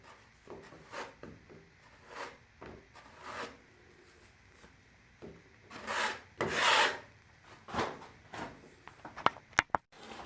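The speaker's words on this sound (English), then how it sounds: "Scrape that flat" A tool scrapes a base coat flat on a mold-affected house surface, with irregular close strokes at varying angles building to a louder rasping burst, followed by a few sharp clicks and knocks.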